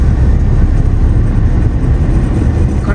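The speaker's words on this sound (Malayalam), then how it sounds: "ആലുവ റോഡിലേക്ക് എത്തിപ്പിക്കുന്ന ഒരു ട്രെയിൻ പോകുന്നത് കാണാം നമുക്ക്" A train heading toward Aluva road passes by as a loud, close, steady low rumble, continuous throughout with no voices.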